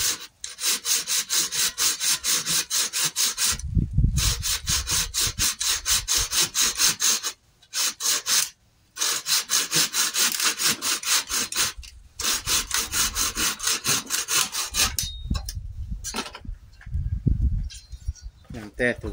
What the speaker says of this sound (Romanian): Am tăiat o bucată de creangă, numai că fiind uscată deja se taie foarte greu.